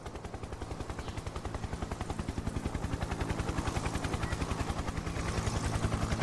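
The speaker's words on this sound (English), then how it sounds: "There's the chopper again." Helicopter in Farming Simulator 22 on PS4 passing overhead, a loud rapid rotor thumping at a steady rhythm that swells slightly as it comes nearer, heard alone without speech.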